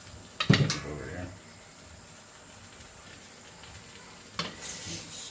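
Cabbage frying in a pan with a soft steady sizzle, broken by two clattering scrapes of a utensil stirring against the pan, close by, with speech nearby.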